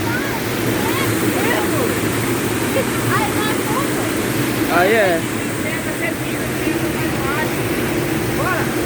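Waterfall at Cachoeira da Martinha, a broad steady roar of falling water into a river, constant and close throughout, with family members talking and shouting over it.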